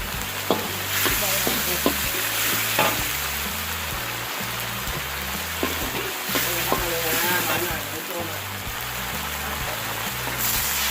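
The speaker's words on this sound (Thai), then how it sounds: "ค่อยๆผัดครับ" Thai jungle curry with climbing perch stir-fried in a pan, continuous sizzling with regular spoon scrapes and occasional metallic knocks throughout.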